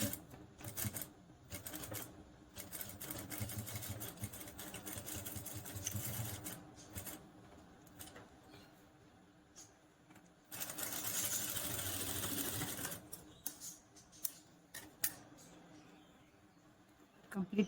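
A sewing machine stitches piping onto a blouse in quick bursts of rapid mechanical chatter separated by pauses, fairly close but quiet.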